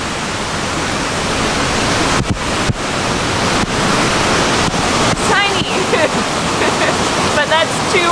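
Waterfall in a gorge, a loud continuous broadband roar of falling water close by, broken by a few short clicks and faint bird chirps.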